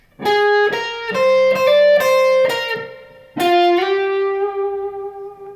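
An overdriven electric guitar plays a slow lead phrase of sustained notes from a song's intro, the final note held long with a gentle wavering vibrato.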